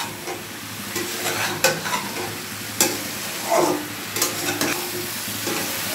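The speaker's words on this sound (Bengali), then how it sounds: "এই মশলাগুলোর সাথে একটু ভাজা ভাজা করেই তারপর এটার মধ্যে জল দিয়ে দেব" Spices and lentils fry in a pan for a winter-vegetable dal, giving a steady soft sizzle. Several scraping stirs of a spoon against the pan stand out, close up, with no talk.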